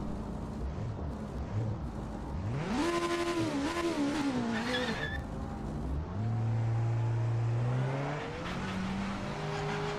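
Race car engine in the Project Motors Racing video game, revving and climbing through gears with rising and falling pitch sweeps, then settling into a steady drone, loud and close with no talking.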